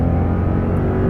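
A 383-horsepower Lexus LX570 V8 under full-throttle acceleration gives a loud, steady engine drone with sustained low harmonics that rise slightly in pitch, heard from inside the cabin.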